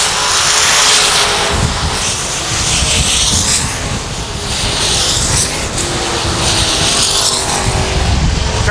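Race cars qualifying at Salina Speedway, engines roaring loudly as they sweep past in repeated surging waves, each pass rising and fading in turn, with no talk over them.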